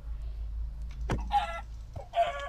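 Chicken clucking in the video game Minecraft: two short clucking bursts close up, separated by a brief pause, with no talk over them.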